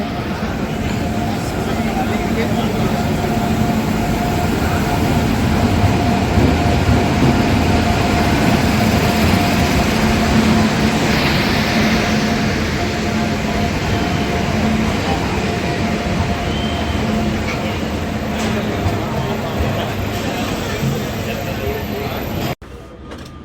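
The Seshadri Express pulls out of Rajahmundry station, a steady low rumble and hum of the moving train heard from inside the coach, with speech mixed over it.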